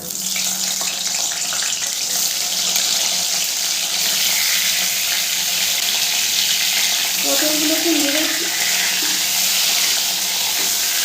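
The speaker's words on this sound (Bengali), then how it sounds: "পটলগুলোকে নেড়ে চেড়ে খুব ভালো করে আমি ভেজে নেব।" Pieces of pointed gourd coated in salt and turmeric frying in hot mustard oil, a steady broadband sizzle that fills the whole clip at close range, with a brief clatter of turning partway through.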